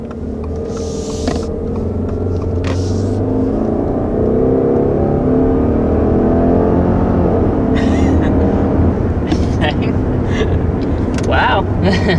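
A 2021 Subaru Outback XT's turbocharged engine pulls steadily under acceleration from inside the cabin, a continuous droning rumble with rising whir, while a person talks over it.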